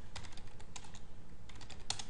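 Computer keyboard typing in short irregular bursts of light clicks, with a sharper keystroke near the end, close and fairly quiet with no talking.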